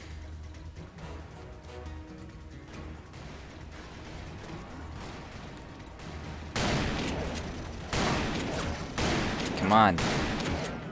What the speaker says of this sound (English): Where do they get so many Gatling guns?